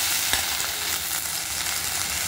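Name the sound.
okra frying crisp in a pan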